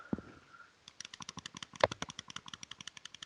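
Rapid clicks from a Corsair computer mouse, a steady series of sharp, close taps at an even rhythm with one louder click partway through, coming after a brief low thump and hum.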